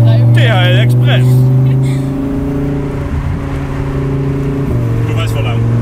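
A Lamborghini sports car, driven by a DHL Express postwoman, hums with a steady, loud engine drone that settles lower partway through, while people talk over it inside the car.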